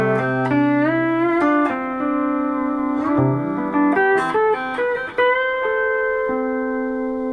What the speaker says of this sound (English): Here I use a 12-string slide in C6 extended and it sounds like this naturally.